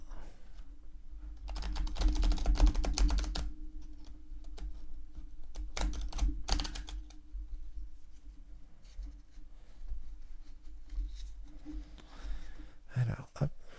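Tarot cards being shuffled at close range, a run of quick dry riffling and tapping clicks in bursts with pauses between, no voices.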